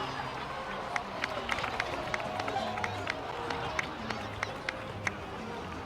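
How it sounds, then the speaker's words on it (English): Applause from a crowd in Genshin Impact, many scattered claps crackling through a busy, moderately loud din, with a few sharper hand strikes standing out at irregular moments. "please give another round of applause for them"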